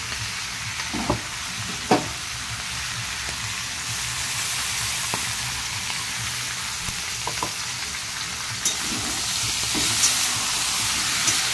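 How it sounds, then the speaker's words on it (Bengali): Ginger and tomato paste fry with spices in a hot pan, giving a steady, close, broadband sizzle throughout, with a few soft scrapes and clicks of stirring and no talking. "এই মশলাটা ভেজে নেব"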